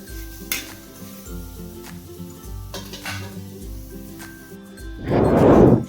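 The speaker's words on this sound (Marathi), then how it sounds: "लोखंडाच्या तव्यावर उलताण्याने उलता पालता करून तुम्ही कांदा व्यवस्थित असा भाजू शकता" Onion roasting on an iron griddle and being flipped with a spatula: scattered metallic scrapes and clinks over a steady tonal background, then a loud, sizzling burst near the end.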